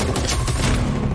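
Gunfire from a TV series trailer: a brief, dense burst of rapid shots that fills the short moment.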